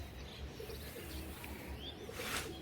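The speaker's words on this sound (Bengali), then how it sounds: "এটা একটা তোমার রাজশাহী গিরিবাজ, আচ্ছা মাদি কবুতর।" A Rajshahi local Giribaz female pigeon coos faintly in low, rolling bursts, with soft chirps and a brief rush near the end over a quiet background.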